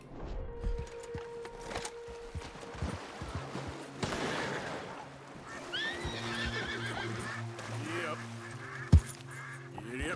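A horse in the video game Red Dead Redemption whinnies loudly, with clip-clopping hooves and game ambience around it, ending in a sharp thump.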